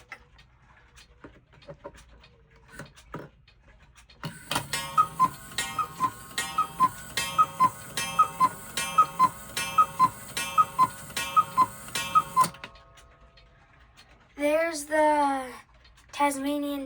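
A closet full of clocks, including a working regulator and a cuckoo clock, ticks steadily in a crisp, even rhythm for several seconds, then stops, followed by a brief warbling chirp.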